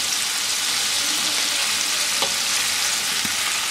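Chicken wings frying in hot oil, a loud continuous crackling sizzle throughout with a couple of brief sharper pops.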